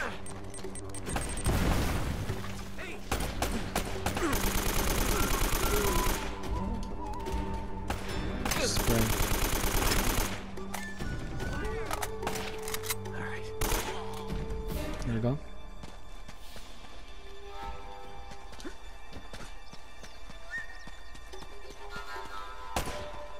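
Gunfire in Uncharted: Drake's Fortune, with AK assault rifle bursts and dense shooting crowding the first ten seconds, then sparser shots and blasts over steady game music while players talk throughout.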